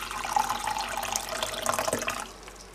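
Water poured into a glass with lemon juice, a continuous splashing trickle lasting a couple of seconds before tapering off, close and fairly clear with no voices.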